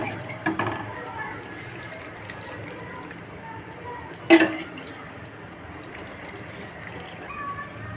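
Hot water pours into a mutton and potato curry (mutton aloo jhola), a faint, quiet trickle and splash with one brief louder slosh midway.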